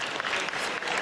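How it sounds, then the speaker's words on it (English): Conference audience at a Nigerian entertainment event claps in a brief, dense, steady burst of applause lasting about a second. "So give him a round of applause."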